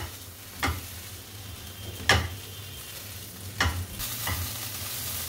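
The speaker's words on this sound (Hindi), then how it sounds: "तो मटर है तो इसलिए मैं थोड़ा सा इनको पहले फ्राई कर लेती हूँ ताकि ये थोड़ी सी गल जाए।" Peas fry in a pan over a gas flame with a steady low sizzle, broken by four distinct scraping stirs at regular intervals, close up and with no talk.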